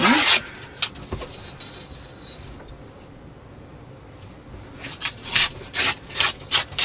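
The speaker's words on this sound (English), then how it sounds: "let's just trim this down" Paper ephemera being trimmed, with close rasping cuts at the start, a quieter pause, then a quick series of scraping, snipping strokes toward the end, no talking.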